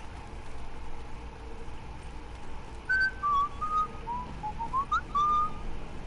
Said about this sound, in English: Who's whistling?